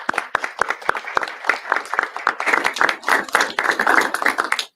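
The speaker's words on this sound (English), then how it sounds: "I would like to ask you to join me in giving them a little round of applause." Applause from a school board meeting audience honoring school registrars: a dense, steady round of clapping from a modest crowd, close and lively, lasting several seconds without talk.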